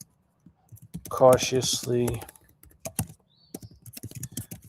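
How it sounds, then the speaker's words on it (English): Quick bursts of clicking keystrokes on a computer keyboard, close and fairly crisp, arriving in irregular clusters with short pauses, while someone talks over parts of it. "I'm just typing this in"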